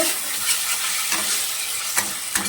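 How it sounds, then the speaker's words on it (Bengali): Spice paste is stirred and fried in a pan, a steady close sizzle broken by a few sharp scraping strokes of the spoon, with no voices. "এখানে ভালো করে আমি মশলাটা কষাচ্ছি, দেখতেই পাচ্ছ"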